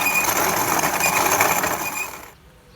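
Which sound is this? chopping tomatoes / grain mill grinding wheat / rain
grain mill grinding wheat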